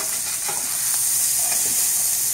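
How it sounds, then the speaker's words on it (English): Caramelizing bacon sizzles in a frying pan as it is stirred, a steady close hiss with soft scraping strokes and no talking. "So now I'm just going to stir that up a little bit. Bacon's starting to get nice and caramelized."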